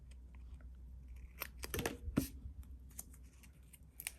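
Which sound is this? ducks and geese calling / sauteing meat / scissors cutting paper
scissors cutting paper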